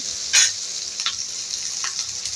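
Onions sizzle in a pan for mutton pulusu with a soft, continuous frying hiss. A few sharper bursts come from stirring.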